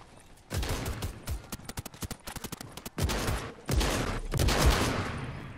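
Rapid bursts of SMG gunfire in a multiplayer shooter video game, loud and close, stuttering in dense volleys with brief gaps before a longer sustained stretch of fire.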